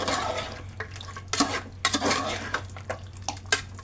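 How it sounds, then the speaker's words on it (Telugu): Chicken curry with cashew paste stirred in a metal pot, a spoon scraping and clinking against the sides in irregular bursts over a steady low hum, with no talking. "చికెన్ అంటే ఇలా వేసి ఇప్పుడు మనం కలుపుకున్నాము."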